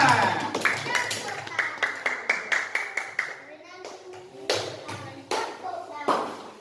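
A classroom of primary school pupils claps for a student presenter, a burst of rhythmic, unison clapping in a steady beat that loosens into scattered claps, with children's voices mixed in.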